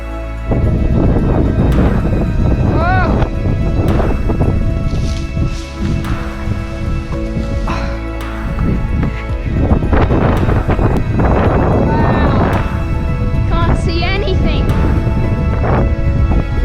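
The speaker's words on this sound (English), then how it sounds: "Oh, it's so windy." Strong wind on Mount Bartle Frere, Queensland's highest mountain, buffets the microphone in loud, continuous gusts with rustling throughout, while people talk under the roar.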